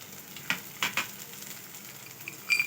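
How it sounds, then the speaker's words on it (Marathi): Chopped carrot, cabbage and peas sizzle in hot ghee in a pan for a mixed vegetable soup, a steady close hiss broken by a few sharp crackles and stirring clatters near the start and again at the end, with no talking. "हे आता हे छान सर्व भाज्या आपण तुपात छान फ्राय करून घेणार आहोत"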